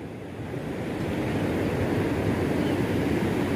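The Paraíba river in Viçosa, Alagoas, swollen after heavy rain, gives a steady broadband rush of fast-flowing water mixed with wind, continuous and fairly close with no talking.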